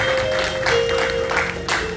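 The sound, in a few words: congregation applauding for the pastor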